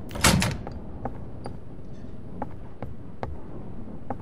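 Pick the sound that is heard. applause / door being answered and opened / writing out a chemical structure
door being answered and opened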